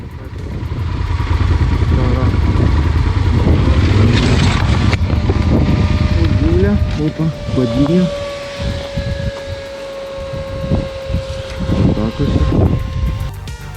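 A motorcycle rides along rural field roads, its engine droning loud and steady at first, then easing and fluctuating, while a rider talks over the engine noise.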